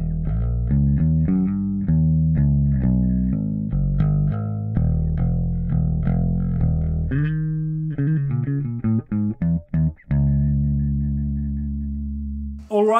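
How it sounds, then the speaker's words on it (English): Clean bass guitar tone without the Mooer Thunderball pedal engaged: a close, plucked bass line of steady notes, then a run of quicker staccato notes and a final sustained low note ringing out. "as a reference, this is the tone I'm using without the pedal engaged."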